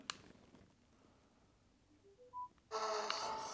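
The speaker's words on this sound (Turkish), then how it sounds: "Çalışırken zaten böyle bir ufak bir melodi geliyor." A short rising sequence of clear electronic beeps plays as Havit H2590BT wireless over-ear headphones start up, followed by a burst of louder broadband sound as the radio switches on.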